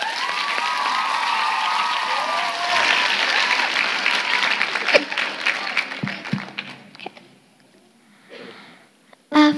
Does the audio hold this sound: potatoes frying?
no